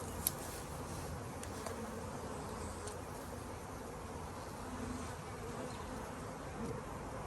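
A steady, soft drone of honeybees buzzing around a hive during a package install continues without a break, with the sound of a few individual insects passing close now and then. The buzzing is faint and fairly distant.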